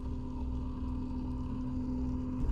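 A CNC machine starting its cutting cycle gives off a steady low mechanical hum and drone with a faint tonal whine, close and continuous, with no voices.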